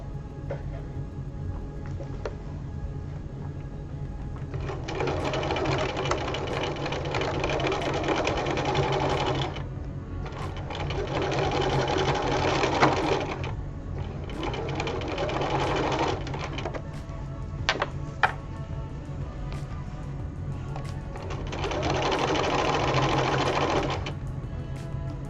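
Sewing machine stitching forward and back while making a ruffled apron, running in four sustained loud bursts of rapid mechanical whirring separated by short pauses with faint clicks, close and alone.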